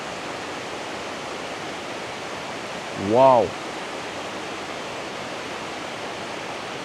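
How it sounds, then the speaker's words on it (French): Waterfall in Bali, a steady, loud broadband roar of falling water continuing throughout, with a brief exclaiming voice rising over it midway. "Ça, dis-toi que ça vient de la cascade de là-bas."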